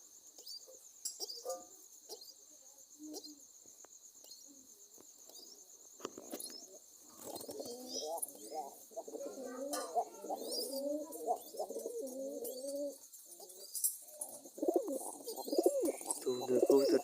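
Pigeons coo repeatedly at close range in soft, rolling phrases, with some faint chirps and scattered background noise between the calls.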